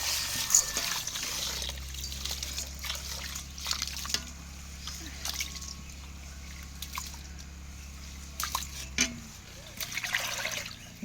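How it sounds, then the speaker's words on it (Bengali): Rice being washed by hand in water in a home kitchen, with trickling, sloshing water and intermittent splashes under a steady low hum, a clearer burst near the end. "এবার চালটা ধুয়ে নেব।"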